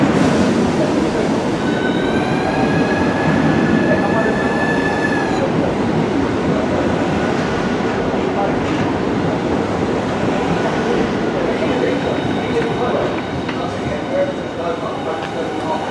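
A high-speed six-coach train at Dover Priory station rumbles loudly and steadily for the whole stretch, with squealing wheel tones early on and a platform announcement voice in the mix.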